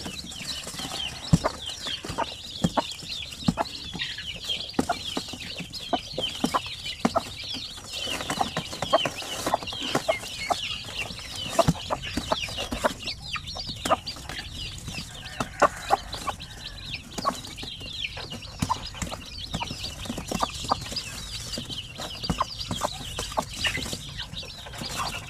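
Many native Basilan hens cluck and murmur softly at a distance, with scattered sharp clucks and light scratching noises throughout.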